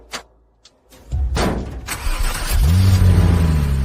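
A car that would not start cranks briefly after a quick electrical repair, then catches and settles into a steady, close idle, following a few clicks and a thud.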